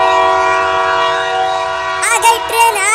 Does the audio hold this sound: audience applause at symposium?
no